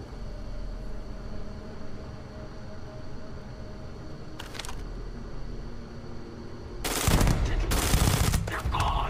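Gunfire in the video game Starfield: a brief burst of shots, then after a steady machine hum a louder, longer rapid volley of automatic fire closes the moment.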